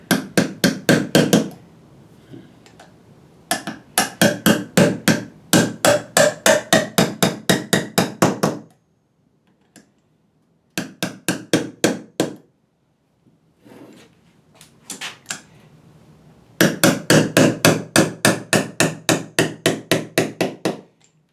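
Bearings are hammered into Jeep locking hubs in fast bursts of sharp metallic blows, close and loud, separated by brief pauses and a few lighter taps.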